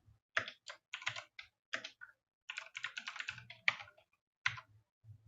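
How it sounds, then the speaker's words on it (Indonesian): Keys clicking on a computer keyboard as code is typed, in quick irregular bursts of taps with short pauses between them, close and fairly quiet. "Biasakan untuk ngetik ya, jangan kopas."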